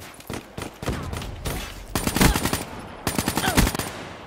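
An MTAR rifle rattles off in a video game, with several rapid bursts of automatic fire that grow louder and denser toward the end, and no talk over them.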